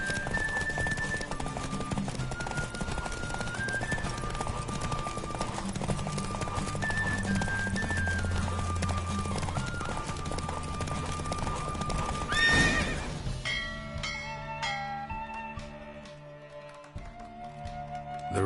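Horse hooves pound in a fast, steady gallop during a race in the video game The Witcher 3 on PS4 Pro, running over game music before the pace breaks into scattered hoof taps near the end.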